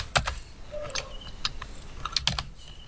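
Typing on a computer keyboard while writing code: quick, irregular clicks of keys close by and fairly soft, with short bursts and pauses, no voice.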